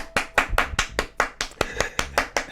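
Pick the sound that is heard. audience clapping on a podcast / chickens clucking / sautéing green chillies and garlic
audience clapping on a podcast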